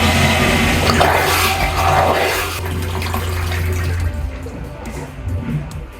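Marine toilet bowl on an Aquila 32 boat filling with water after a flush, steady close rushing and trickling that eases off toward the end, a faint voice briefly in the background.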